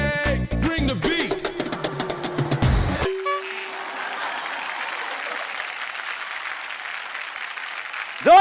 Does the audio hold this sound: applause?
yes